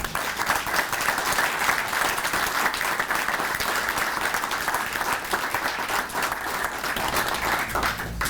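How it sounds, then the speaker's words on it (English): A township meeting audience gives sustained, steady applause, many hands clapping at an even loudness for several seconds without a break, with no voices over it. "I think they deserve a round of applause."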